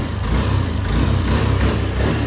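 A motorcycle engine started by push button settles into a steady idle, running alone and fairly loud at close range.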